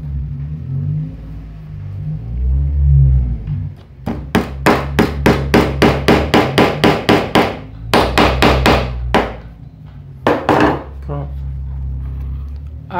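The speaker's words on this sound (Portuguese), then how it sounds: "boto um prego aqui e venho com o outro" Nails being hammered into an acoustic guitar neck while gluing it, a rapid run of sharp close metallic blows, then a second burst and a few final strikes, over a low background rumble with no talk.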